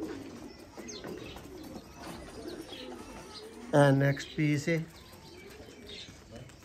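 Breeder pigeons coo softly under a voice, with a few loud bursts of flapping wings near the middle of the clip.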